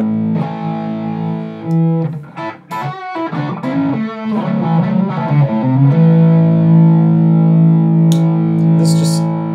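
Electric guitar played through an amp with a subtle overdrive pedal on a pedalboard, sustained chords and single notes ringing out thick and smooth, loud and close with no talking.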